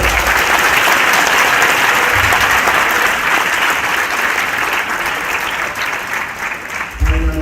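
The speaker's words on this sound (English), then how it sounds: "Can we give them a big round of applause?" A big audience gives a loud, sustained round of applause at an induction ceremony for newly qualified physician assistants, dense clapping filling the hall and fading slightly toward the end.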